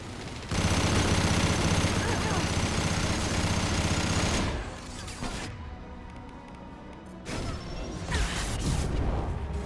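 Sustained, dense gunfire in the Mass Effect 2 video game roars for about four seconds, then drops to a quieter rumble before another sharp burst of shots near the end.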